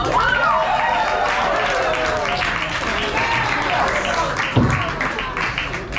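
Audience applause and clapping fill a comedy show crowd at an art night, a dense sustained roar of hands with cheering voices and a whoop riding over it, fairly loud and steady throughout.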